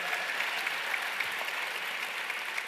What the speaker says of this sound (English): Another big round of applause for our next panel